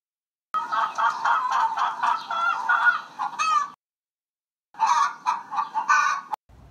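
Chickens cluck in dense, close bursts, a flurry of squawks lasting a few seconds, then a pause before another clucking run that ends abruptly.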